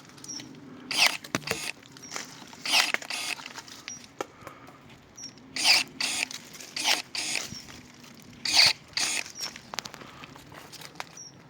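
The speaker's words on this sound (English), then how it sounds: "hedge trimmer that's compatible with Makita LXT batteries" A cordless hedge trimmer on a Makita LXT battery cuts through a bush in repeated short bursts of snipping, clattering blade noise with brief pauses between them, close and fairly loud, with no speech.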